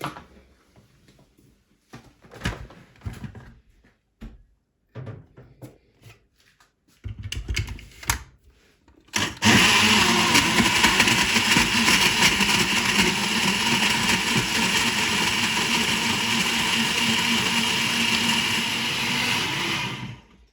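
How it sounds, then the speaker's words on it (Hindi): An electric blender whirs a weight-loss drink made with water, starting after some close clatter and handling noises and then running loud and steady for about ten seconds. "अब इसको हम ब्लेंड कर लेंगे अच्छे से।"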